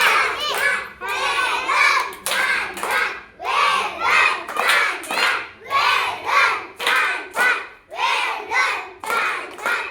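Children in a classroom clap in patterned rhythmic bursts, each round rising and falling in a regular cheer, about a dozen loud close sequences mixed with their chanting voices.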